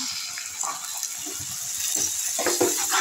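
Water poured into a pan of turmeric and salt masala for a fish curry, a short gushing splash under a low, steady kitchen hiss, fairly close and modest in volume.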